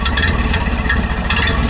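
A 1931 Ford Model A with a cam idles unevenly through its side-pipe exhaust, a steady, loud, slightly lumpy low rumble running throughout with no other voices.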